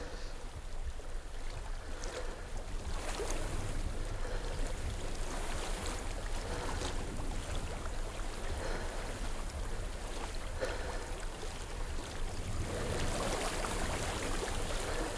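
Steady flowing water of a stream in Hellblade: Senua's Sacrifice, a continuous broadband rush and wash with wind-like hiss, even and unbroken throughout with no talk.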